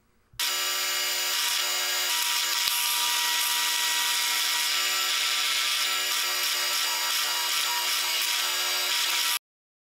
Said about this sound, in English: With my drill press and a 13/64 drill bit, I drill out all four of the holes.